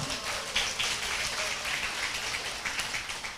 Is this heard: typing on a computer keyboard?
no